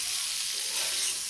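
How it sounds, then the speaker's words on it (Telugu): Paneer pieces fry in hot oil with salt, turmeric and chili, giving a continuous bright, loud sizzle with light stirring noise and no talking. "కట్ చేసి పెట్టుకున్న పన్నీర్ ముక్కలు కూడా వేసేసుకుని లైట్గా ఫ్రై చేస్తున్నాను"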